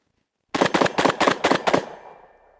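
A rapid string of about seven loud tactical shotgun blasts fired at steel targets at an outdoor range, close up with quick even spacing, the last shot trailing into a short echo.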